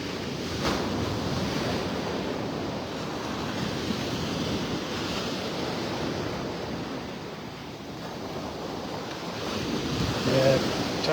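Ocean surf rolls steadily onto Vanderbilt Beach in North Naples, Florida, on a receding-tide morning, a continuous broad wash of breaking waves mixed with wind buffeting the microphone, loud and unbroken.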